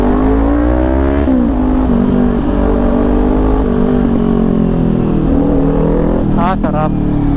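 Kawasaki Ninja 400 sports bike fitted with an SC Project exhaust, running at close range with a steady engine drone, rising and falling revs and a sharp throttle blip near the end; a voice talks over it.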